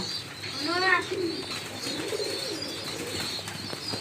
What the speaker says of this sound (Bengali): এখন আমি আমার কবুতরকে খেতে দেব